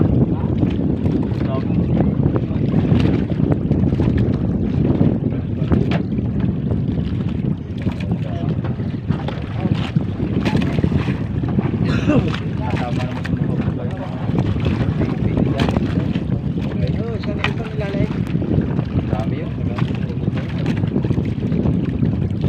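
Fishing boat with a 4R7 engine running on open water, a loud steady drone mixed with heavy wind buffeting on the microphone, continuous throughout.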